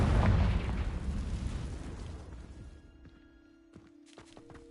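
A Confringo blasting spell explodes in Hogwarts Legacy, a loud broadband burst at the start that rumbles and decays over a few seconds, followed by faint tonal magical shimmers and light crackles.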